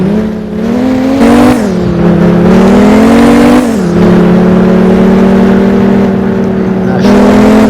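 A race car engine drones loud and close, its pitch rising and dropping through gear changes as the vehicle drives along the road.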